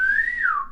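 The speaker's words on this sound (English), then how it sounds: "They're just whistling." A single short whistled note, up close, rising slightly then gliding downward before fading out.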